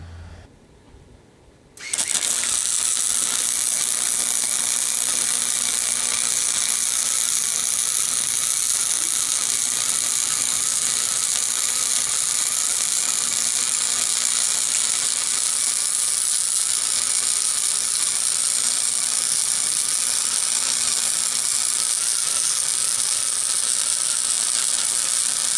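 A Harbor Freight flux core welder running a continuous weld on thick half-inch solid steel: a loud, steady, harsh crackling buzz that begins abruptly after a brief quiet start and holds unbroken to the end.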